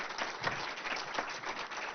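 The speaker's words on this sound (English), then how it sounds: "A big round of applause for her" A conference audience applauds warmly after a talk, steady dense clapping from a moderately sized crowd, continuous and even throughout with no voices on top.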